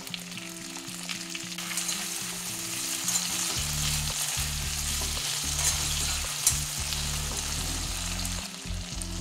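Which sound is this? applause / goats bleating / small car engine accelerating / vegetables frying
vegetables frying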